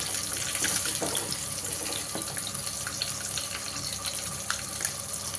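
Chicken pieces deep frying in hot oil in a home kitchen kadai, a steady close sizzling hiss with faint crackles and pops throughout, no talking.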